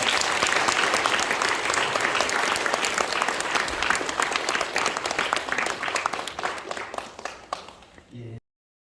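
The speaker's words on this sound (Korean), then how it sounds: "뜨거운 박수로 환영하겠습니다" Warm applause greets a speaker at a church evangelism seminar, dense steady clapping from an audience lasting about eight seconds before cutting off abruptly.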